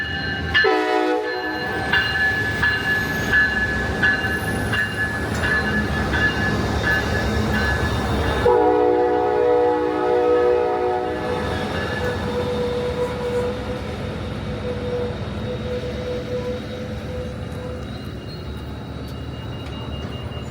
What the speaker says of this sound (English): We caught a train just arriving